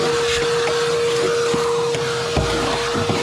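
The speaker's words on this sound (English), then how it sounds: "Okay, let's vacuum again." A vacuum cleaner runs steadily, close and loud, while cleaning a rusty Moskvich 2140 car body during rust repair, with occasional knocks and scrapes as the nozzle moves.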